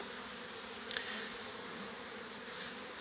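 Honeybees at an apiary hum in a soft, even drone that carries on steadily throughout, faint and unbroken, with no talking.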